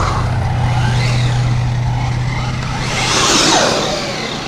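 A Traxxas Rally RC car, a front-wheel-drive model, accelerates hard on a test drive, its high electric motor whine rising and swelling loudly near the end with no one talking.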